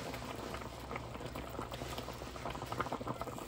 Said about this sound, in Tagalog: kumulo na ang ating pangalawang tubig